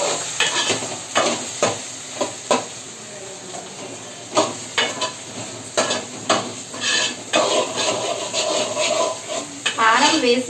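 Taro root curry frying in oil with chili powder, a steady sizzle broken by repeated scraping and clinking of a spoon against the pan, close and fairly loud.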